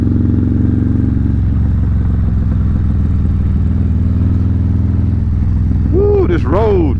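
A motorcycle engine braking on a curvy rural Tennessee backroad, a steady low droning engine note close by, with a brief rising whine near the end.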